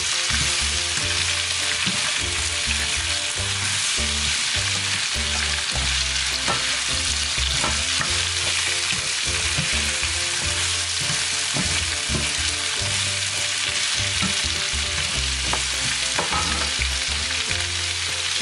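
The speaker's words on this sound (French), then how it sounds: "Je viens remuer tout cela." Rice and vegetables sizzle in a pan for a vegetable rice dish while being stirred, a dense continuous frying hiss with frequent scraping and clattering of the utensil throughout.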